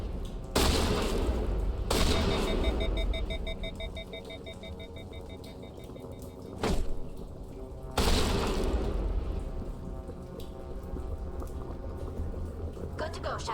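Gunfire rings out while shooting space zombies in Mass Effect Legendary, with several sharp, loud shot bursts spaced a few seconds apart over a busy background of ringing and hissing game noise.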